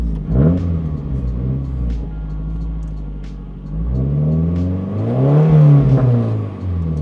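A Nissan Pulsar GTiR engine revs up twice, the first blip short and the second a longer rising and falling rev, close and loud over a steady idle rumble.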